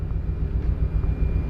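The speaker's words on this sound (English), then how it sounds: "Now the helicopters that you see flying there, those are MH-60s." MH-60 helicopters flying over the ocean splashdown site during a capsule recovery, a steady low rotor and engine rumble at moderate distance, continuous and unbroken throughout.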